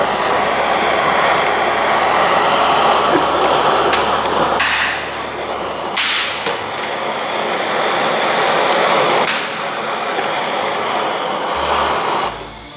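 A torch roars steadily as heat goes onto rusted engine parts during a 1975 Ford F100 teardown, and several sharp metallic clanks and hits cut through the hiss.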